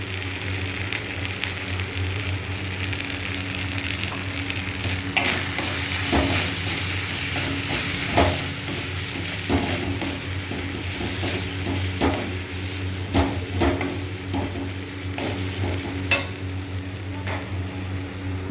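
Turmeric powder and spices fry in a pan while being stirred, a continuous close sizzle broken by scraping spoon strokes and occasional clinks against the pan.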